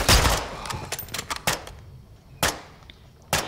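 Bursts of gunfire from the video game Call of Duty: Modern Warfare 2, with a cluster of rapid shots at the start and then single sharp cracks spaced a second or so apart, loud and without talk.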